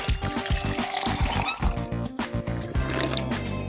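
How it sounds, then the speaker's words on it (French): Water sloshes and gurgles as a mouth is rinsed from a cup after brushing teeth, a close, steady liquid churning with a low bubbling stretch near the end. "Et maintenant, on rince. Pour ça, j'ai toujours un gobelet à portée de main."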